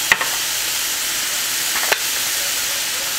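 Mahi mahi pan frying with thyme makes a constant close sizzle, broken by two sharp clacks of a utensil against the pan.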